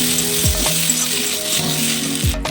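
Radhuni spice paste goes into a hot pan of sukto with oil, setting off a steady close sizzle and frying crackle that runs throughout, with no talking.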